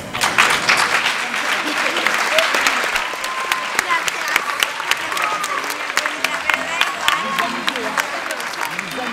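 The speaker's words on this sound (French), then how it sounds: "moi j'ai envie qu'on les applaudisse encore." Audience applause at a school music concert at a French international high school in Murcia, steady dense clapping throughout, loud and close, with a few voices mixed in.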